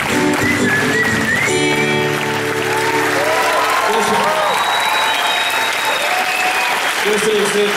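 An audience at the Zöldpardon festival applauds after a song, loud sustained clapping from a crowd, with voices and whistles mixed in as people talk over the ovation.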